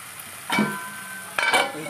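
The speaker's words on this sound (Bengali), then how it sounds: "কেটে নিয়ে এবার ফ্রাইং প্যানে তেল দিয়ে হালকা তেলে ভেজে নেব।" Round slices of bottle gourd fry in a little oil in a frying pan, with two sharp surges of sizzling as pieces are moved or stirred over a quieter background hiss.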